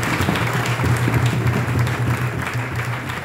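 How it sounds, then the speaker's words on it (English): Children applauding at St Cyprian High School in Kyabakadde, a dense, steady patter of many hands clapping together, loud and continuous with little talk. "The children, please clap for the former head teachers."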